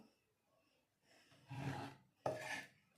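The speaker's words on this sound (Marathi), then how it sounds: "आता मी सर्व डाळ कुकरमध्ये टाकून घेते" Soaked toor and moong dal poured into a steel pressure cooker, giving two short rasping, sliding bursts of wet lentils hitting metal, close and fairly quiet.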